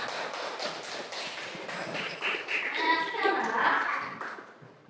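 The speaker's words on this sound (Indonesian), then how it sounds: "Tepuk tangan." Children in a classroom clap their hands together in a brief burst of quick, overlapping claps, fairly faint and swelling toward the end, with young voices mixed in.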